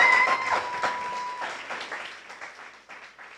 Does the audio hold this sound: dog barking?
no